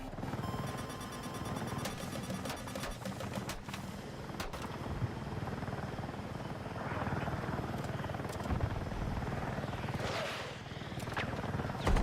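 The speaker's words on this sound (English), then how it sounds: "I heard a heli." A helicopter flies over a Battlefield 6 match, its steady rotor drone filling the whole stretch at moderate loudness, with scattered game effects and faint voices mixed in.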